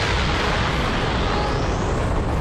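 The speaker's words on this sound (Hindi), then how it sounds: "किंग जैनो वेजिटा पर एक तेजी से धमाका कर देते" Cartoon explosion blast as a character strikes another with a rapid energy attack, a dense roaring rumble that fills the whole short moment at steady loud level with no pauses.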